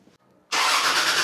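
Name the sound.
car engine starting on a test fire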